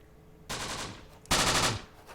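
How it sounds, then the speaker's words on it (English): A rifle team returns fire in the wartime tactics video game Close Combat, at an Italian desert stronghold, two separate rattling bursts of rapid shots, the second louder and closer, with quiet gaps around them. "Looks like our rifle team is already returning fire"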